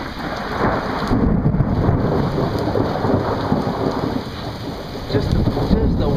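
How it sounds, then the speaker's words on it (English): Heavy rain pours down on a street in a steady, loud hiss. The wash of water swells slightly in places but never breaks, and no voices are heard. "Just the waves of rain in the street."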